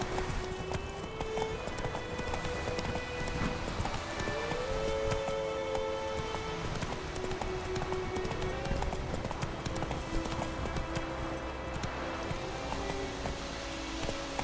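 Hoofbeats of the horse Roach being ridden in The Witcher 3: Wild Hunt, a steady clip-clop under rainfall and game ambience, with a brief voice and a few tonal music lines.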